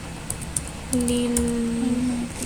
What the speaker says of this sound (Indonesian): lalu kita mengetik lagi